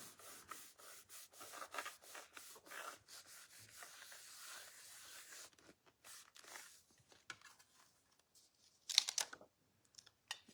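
Stamped cardstock is rubbed firmly by hand, giving quiet repeated dry scuffing strokes in a steady rhythm, then a few sparse rubs and scrapes after a pause.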